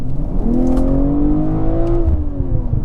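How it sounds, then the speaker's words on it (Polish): A BMW M340i xDrive engine revs up hard, its pitch climbing steadily over a couple of seconds and then levelling off, loud and close, with no voices. "posłuchacie tego, jak ten samochód przyspiesza"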